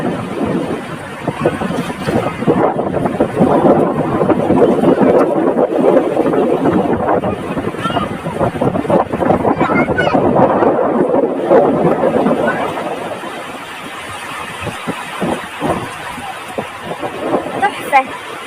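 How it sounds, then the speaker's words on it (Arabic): Sea waves rolling in under strong wind, a loud broad rushing wash buffeting the microphone, swelling and easing over many seconds, with a person talking excitedly throughout. "سامعين صوت الموج؟"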